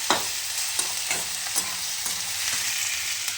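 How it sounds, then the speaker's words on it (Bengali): Onion, tomato, dried chili, garlic and ginger fry in a pan, a steady broadband sizzle broken by several sharp stirring scrapes at a loose, uneven rhythm, close and alone with no voices. "এর মধ্যে আমি পেঁয়াজ টমেটো শুকনো লঙ্কা আর অল্প একটু রসুন আর হচ্ছে একটু আদা ভেজে নিচ্ছি"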